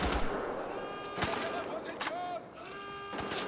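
Gunfire in Wolfenstein: The Old Blood while shooting at enemies from cover: loud, dense bursts of rapid shots and sharp cracks over a busy game soundscape, with a few distinct louder reports.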